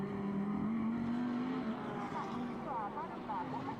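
Ferrari 296 GT3 Evo race car of Norric Racing during qualifying at Fuji, its engine note holding a steady rising drone with a short shift, mixed into continuous broadcast commentary and circuit noise.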